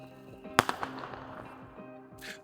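Firecrackers go off outdoors during Chinese New Year in Jilin, China: a sharp cluster of distant cracks and pops echoing off buildings, with scattered faint bangs afterward under a low background hum.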